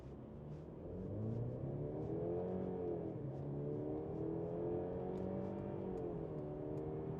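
A 2024 Mercedes-Benz E300 engine revs and pulls hard, its tone rising and dipping as it climbs uphill under load, steady and fairly quiet with no talking.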